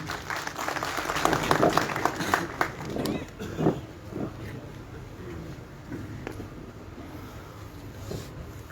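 Applause from an audience at a Kashmir Day gathering in Pakistan welcoming the president of Azad Jammu and Kashmir to the stage, strongest at first and fading to a thinner patter with background crowd murmur.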